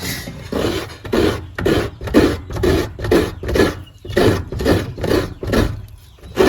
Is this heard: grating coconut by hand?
yes